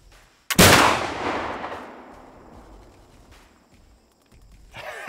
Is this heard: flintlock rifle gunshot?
yes